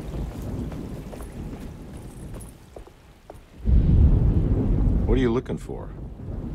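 Stormy weather in the Alone in the Dark video game, with a steady low rumble of wind and thunder rolling throughout and swelling louder midway, while a voice speaks briefly over it near the end.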